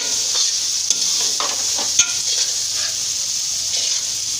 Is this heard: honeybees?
no